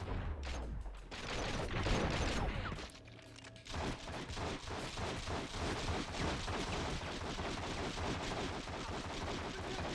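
Dense, continuous gunfire from The Matrix: Path of Neo video game, rapid overlapping shots and bursts filling the clip at high volume, with a brief lull near the middle before the shooting resumes.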